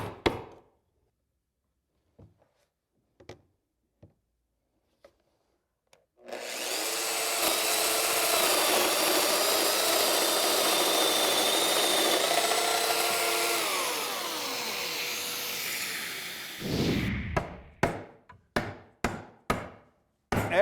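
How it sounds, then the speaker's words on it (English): A power tool cuts mortises in wood for an outdoor chair in a woodshop, running steadily for about ten seconds with a loud whine that shifts pitch, framed by sparse knocks and clicks of wood being handled before and after. "I'll get the rest of this positioned, make those cuts"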